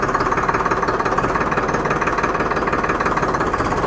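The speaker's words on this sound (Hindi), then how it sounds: "बहुत ही अच्छी आवाज़ है ट्रैक्टर की" Farmtrac 60 tractor, a 55 hp non-turbo, non-CRDI diesel, running close by with a steady, rapid knocking chug and a constant vibrating drone, heard alone.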